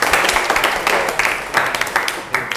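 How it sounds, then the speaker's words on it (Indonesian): Pupils in a morning mathematics class clap together in a rhythmic group clap, sharp loud bursts landing at a steady beat, with a few quicker doubled claps near the end. "Tepuk tangan untuk ya semua."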